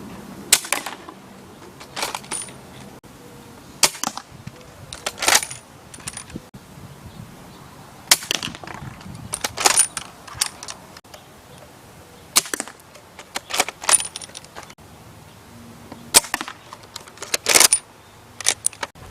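D-Boys KAR-98 airsoft rifle firing BBs at a target 50 feet away, sharp clacking shots and bolt-action clicks spaced irregularly over a quiet outdoor background.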